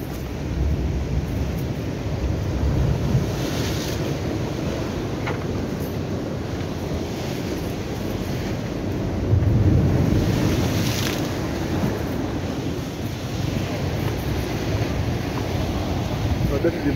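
Sea waves wash and surge along Dover Beach in Christ Church, Barbados, a continuous rushing roar of surf mixed with wind buffeting the microphone, swelling louder midway through.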